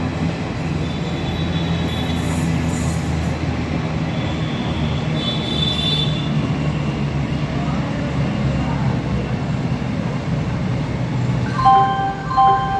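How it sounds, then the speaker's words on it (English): The Prayagraj Express rolls into a platform at Prayagraj Junction with a loud, steady rumble of wheels on rails and brief high squeals near the end. "train number 1309 Prayagraj express from Sopore to Prayagraj junction is arriving on platform"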